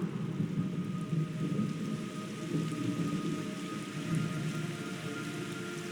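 Steady rain pours throughout with a low rumble of thunder underneath, an even, continuous stormy wash heard at moderate level within the Metal Gear Solid Delta: Snake Eater video game, no voices present.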